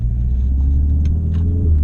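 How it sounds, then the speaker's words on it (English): A 500 hp VW Golf 7R exhaust holds a steady, loud, deep low rumble, with faint ticks above it and no voices. "As you can see the pattern, loud pops, loud bangs"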